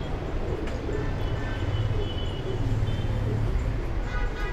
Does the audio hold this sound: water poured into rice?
no